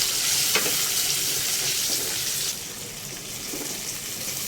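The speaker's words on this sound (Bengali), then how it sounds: "এবার চলে যাচ্ছে এখানে যে পেস্ট করে রাখা ছিল সেই পেস্টটা মানে ওই টমেটো আদা রসুন পেঁয়াজের যে পেস্টটা" A tomato, ginger, garlic and onion paste frying in a pan gives a steady close sizzle with soft stirring scrapes, with no talk over it.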